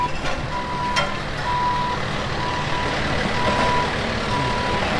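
Steady reversing beeps repeat at an even pace over the low rumble of idling trucks nearby at a dealership lot being paved.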